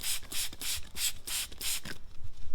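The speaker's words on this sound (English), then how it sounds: "take a bottle of soapy water. We're gonna just spray that" A spray bottle of soapy water squirts in six quick, evenly spaced bursts, each a short hissy spritz, close by, then stops.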